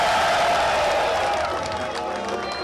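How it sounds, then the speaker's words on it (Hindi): Faint applause and light clapping from an audience at a railway train inauguration ceremony, a brief, thin smattering that fades slightly toward the end. "बड़ी कमजोर सी ताली मारी है आपने"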